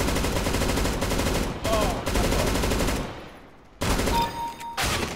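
Rapid bursts of gunfire from a Counter-Strike: Global Offensive match, loud and dense with repeated shots, a brief lull in the middle before shooting resumes.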